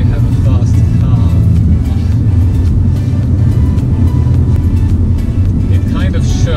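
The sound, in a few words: fast car passing on the road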